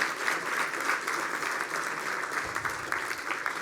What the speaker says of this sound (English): so that people can clap for all your great work